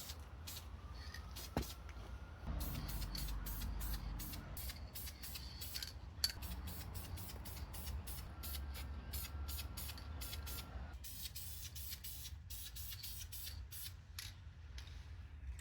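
Blue aerosol paint is sprayed onto the brake calipers of a BMW E46 in a series of quiet, short hissing bursts with brief gaps between them.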